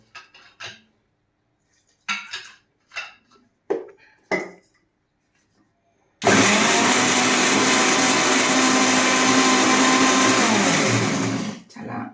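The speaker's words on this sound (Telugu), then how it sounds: "మెత్తగా రుబ్బేసుకోవాలి" After a few sharp clinks of a jar and utensils, a mixer grinder roars loudly and steadily, grinding raw amla with green chillies and water into chutney before cutting off.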